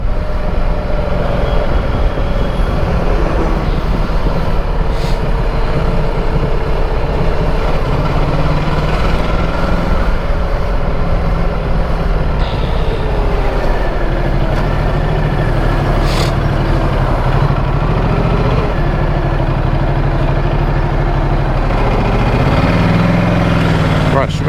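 A motorcycle engine running steadily while riding on a commute, a continuous loud drone with shifting pitch and wind rumble throughout, with someone talking over it.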